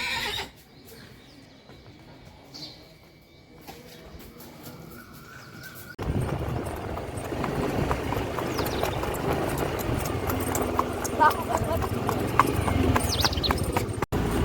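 A young horse, about a month old, walks at home on a morning outing, its hooves clip-clopping in a steady rhythm that grows louder and closer partway through, with occasional whinnies and faint birdsong in the background.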